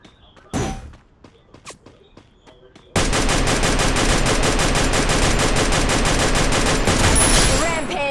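Rapid automatic gunfire from a video game weapon with infinite bullets, a dense, sustained burst that starts abruptly after a few seconds of scattered footsteps and thumps and runs loud and continuous to the end.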